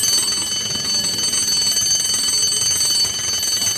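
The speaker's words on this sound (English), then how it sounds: "Suddenly, she heard the bell." A steady electronic bell or alarm rings continuously at moderate volume, its bright tones sustained without pause over faint background noise.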